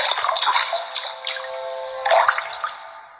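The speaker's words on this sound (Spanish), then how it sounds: "Hay sonido de agua." Water runs steadily in a bathroom in the horror game The Fear, a continuous splashing flow like a tap filling a basin, with brief louder gushes, alone and moderately close.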